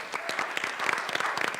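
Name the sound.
audience applause at a board of education meeting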